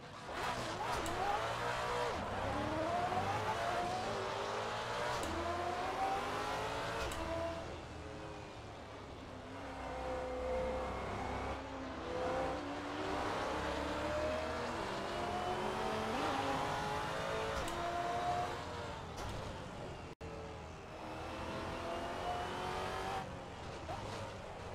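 Maserati MC GT4 race car on the Zandvoort circuit in a racing simulator, engine revving up and down through gear changes with occasional tire squeal, loud and continuous, with someone talking over it now and then.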